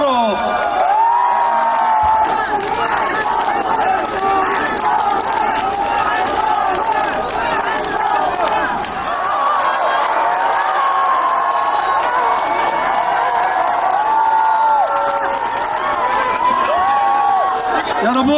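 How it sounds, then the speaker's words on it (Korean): A large outdoor crowd at a political campaign rally in Gimpo keeps up loud, continuous cheering, shouting and whooping with scattered clapping, while an amplified voice speaks over the roar. "50만의 함성으로"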